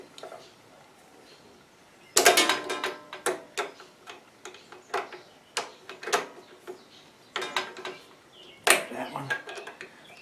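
Ratchet clicking in short rapid bursts as tight, sealer-coated carburetor bolts are loosened on a Craftsman front-tine rototiller, close and fairly loud, with a heavier crack as one bolt breaks free.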